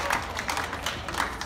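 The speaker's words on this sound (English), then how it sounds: "we will start with everybody giving them a round of applause for participating in this tonight" Audience applause for participants at an evening dance fundraiser's winners announcement, a steady wash of clapping from a crowd throughout, with faint voices mixed in.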